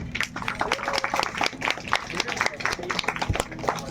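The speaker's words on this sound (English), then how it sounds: "please clap your hand while the music is going on" An audience clapping along to music at a community gathering, a busy patter of many hands layered over loud music and voices.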